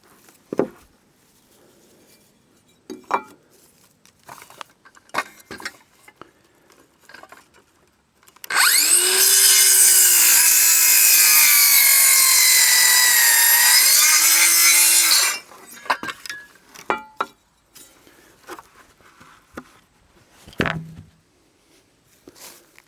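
A power saw cuts steadily through wood for several seconds, loud and close, with scattered knocks and handling noises before and after.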